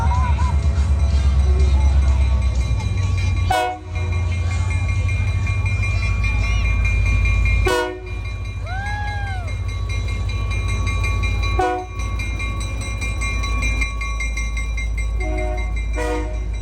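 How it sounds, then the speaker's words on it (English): A Polar Express excursion train in Bryson City, North Carolina rumbles steadily along the rails, with a few brief drops in the noise and tonal horn-like calls sounding partway through. "Once on the train, we went for a nice ride."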